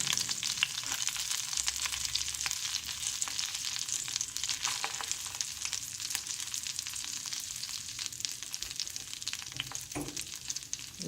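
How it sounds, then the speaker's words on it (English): Steady, close sizzling and crackling of mackerel fish cutlets frying in shallow oil, with occasional sharper pops throughout and no voices. "So I'm just doing the shallow frying."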